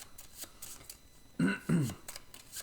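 Cards for the board game Cartographers being shuffled, two short papery riffles close by in a quiet room, each lasting about a quarter second.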